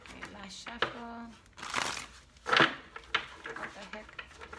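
Oracle cards are shuffled and riffled by hand in a few crisp bursts of papery flicking, with someone talking quietly between the shuffles.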